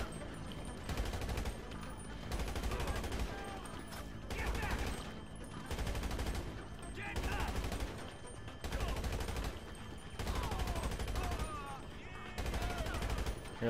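Automatic gunfire in Grand Theft Auto Online during a Doomsday Heist mission comes in repeated short bursts about every second or two, steady and moderately loud over a constant engine drone, with a voice talking intermittently.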